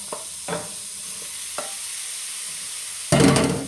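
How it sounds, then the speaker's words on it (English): Steak fajita meat dropped into a hot pan, a sudden loud burst of sizzling near the end after a few soft handling clunks in quiet. "my meat is good. I am going to put it in the pan"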